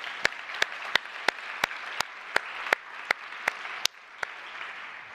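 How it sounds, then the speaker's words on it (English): Audience applause at the Real World Crypto 2020 cryptography conference for Eric Rescorla: a steady wash of many hands clapping, punctuated by sharp, evenly spaced individual claps standing out near the microphone, without talk. "I think we should give Eric a big round of applause"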